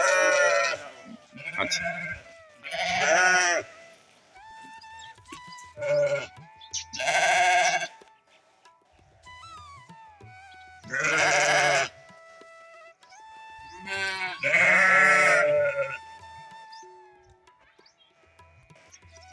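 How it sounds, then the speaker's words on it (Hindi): Sheep bleat from a pen in a Pakistani village, sounding as several loud, wavering calls spaced between quieter stretches, while someone talks briefly nearby. "अच्छा माशाल्लाह ये भेड़ें रखी हुई हैं"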